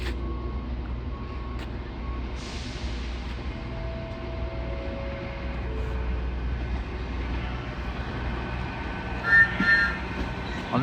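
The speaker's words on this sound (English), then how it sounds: "slowly making her way around the corner is another East Midlands Railway 810 Aurora unit on a test run" An East Midlands Railway 810 Aurora unit on a test run creeping around a curve near Derby, a steady low rumble with faint tonal whines and brief wheel squeal near the end.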